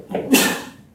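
A single sneeze in a classroom, a short sharp burst with a breathy lead-in, close and fairly loud.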